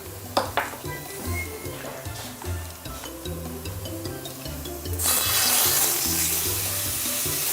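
A flat iron steak laid into hot grapeseed oil in a pan sets off a sudden, loud, steady sizzling hiss partway through that holds to the end, after some light kitchen clatter over soft background music.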